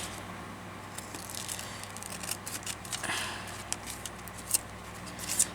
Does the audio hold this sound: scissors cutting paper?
yes